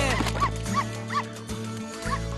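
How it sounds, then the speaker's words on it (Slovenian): A cartoon puppy yips and barks in a string of high, short bursts over backing music, with a few whimpery notes mixed in. "Pridi sem, kuža!"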